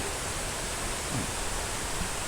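A waterfall in a lush, little-visited forest area pours steadily, a loud continuous broadband rush of falling water with no talk over it.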